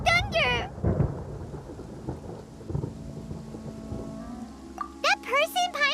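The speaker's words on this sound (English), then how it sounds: "Paimon used thunder!" Thunder crackles and rumbles during a thunder attack in the video game Genshin Impact, a low rolling roar with rain-like hiss running under character voices near the start and end.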